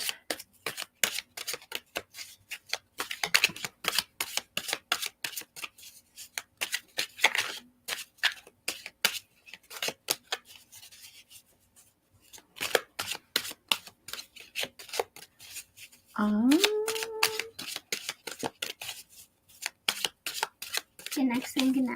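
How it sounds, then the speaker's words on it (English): Oracle cards being shuffled by hand in repeated rapid riffling bursts with short pauses between them, close and crisp, and a voice speaks briefly in the middle. "So I will shuffle them"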